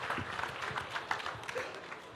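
An audience at the Jashn-e-Rekhta poetry gathering claps loudly to welcome poet Rashmi Saba to the stage, a dense, steady wash of applause with a few brief voices mixed in.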